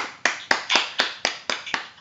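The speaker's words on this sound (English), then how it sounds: "So let's clap for Jesus." Audience clapping in unison at a children's faith session, about eight sharp, evenly spaced claps at a brisk steady rhythm, close and clear.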